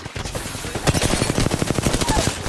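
Rapid automatic gunfire in Apex Legends, a fast burst of close, loud shots firing in a steady rhythm.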